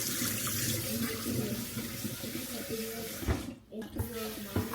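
Tap water runs steadily into a pot of rice being prepared for cooking in a home kitchen, a continuous moderate splashing stream with a brief break near the end, while a voice talks quietly underneath.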